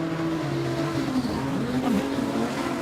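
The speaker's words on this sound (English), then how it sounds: "Sarah Franz getting the better of the jump as they head down the back chute for the first time" Production sedan race cars at a Kingaroy circuit roar down the back straight, a steady dense engine drone with shifting pitch as several cars pass close and loud, with no talk.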